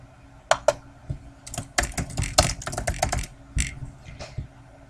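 Fingers type on a computer keyboard to enter names into a spreadsheet header, a quick irregular run of close, crisp key clicks with short pauses between bursts and no talking.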